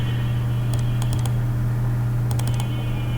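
AutoCAD commands are typed on a computer keyboard, with two short bursts of quick key clicks ending in Enter presses. The keys sound close over a steady low electrical hum.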